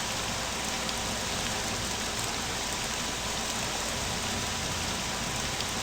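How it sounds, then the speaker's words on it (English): Steady rain falls in the video game Morrowind, a dense, even hiss of drops pattering on surfaces that holds constant throughout with no talking. "It's raining."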